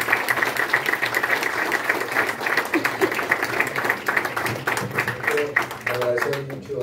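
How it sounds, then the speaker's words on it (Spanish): Audience applause for a guest speaker at a university law faculty: dense, sustained clapping from a sizeable crowd fills the whole stretch at steady loudness, with voices mixed in underneath. "Les pido un fuerte aplauso para nuestro invitado de esta tarde."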